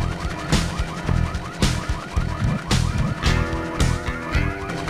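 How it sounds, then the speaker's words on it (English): An alarm going off in the video game Full Throttle, a loud wailing siren that rises and falls over and over, heard alone with no talk. "you set off the alarm"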